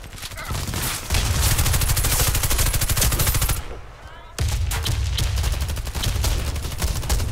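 Rapid automatic gunfire from the Warface video game rattles in loud, dense bursts, pausing briefly before another sustained burst of shots resumes, close and dominant.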